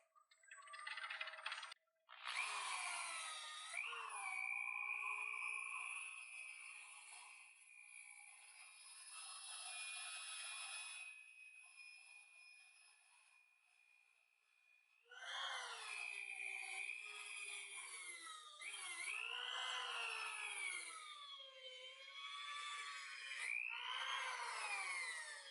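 A wood lathe whirs steadily while a tool scrapes and hisses against a spinning butternut bowl, rising and falling in long passes, close and continuous.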